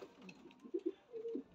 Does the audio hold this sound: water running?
no